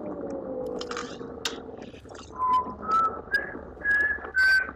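A person whistles a series of short, clear notes that step upward in pitch, coming in separate bursts after a stretch of faint background rustling.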